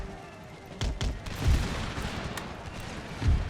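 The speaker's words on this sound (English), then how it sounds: "They're firing from us from pretty far distance though." Musket volleys from grenadiers in the strategy game Empire Total War, distant and scattered, with several dull muffled booms and pops spread over a few seconds amid battlefield noise.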